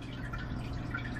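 Water drips and trickles softly as copepods are added to an aquarium tank, a faint, close, continuous watery patter with no talking.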